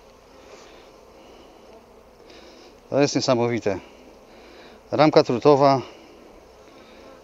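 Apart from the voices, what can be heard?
honey bees working on a hive frame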